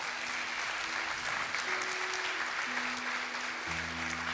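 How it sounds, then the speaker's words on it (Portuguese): A church congregation claps in sustained, dense applause that holds at an even level throughout, with steady tones held underneath. "Dá uma salva de palmas para Jesus, não é para mim."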